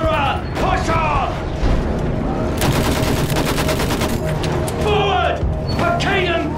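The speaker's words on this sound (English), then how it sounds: "Use that machine gun! Mow them down!" Machine gun fire in Battlefield 1 during a World War I trench battle, rapid rattling bursts amid battle noise, with shouted voices before and after the firing.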